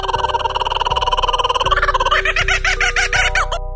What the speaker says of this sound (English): Next is the kookaburra.